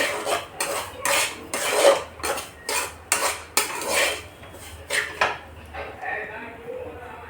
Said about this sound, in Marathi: आणि इकडे बारीक गॅसवर आपला रवा पण छान भाजला जाते.